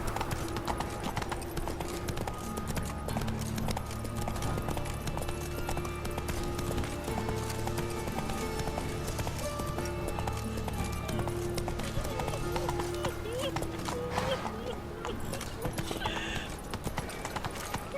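The horse Roach galloping in The Witcher 3, rhythmic hoofbeats thudding steadily with a whinny, under game music and a brief spoken line.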